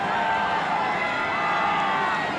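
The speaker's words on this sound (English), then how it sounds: "Stand up and show your thanks. Let's make some noise, crowd." Spectators at an ultimate frisbee game on universe point, cheering and making noise as a steady, far-off roar of crowd noise with a few faint whoops rising above it.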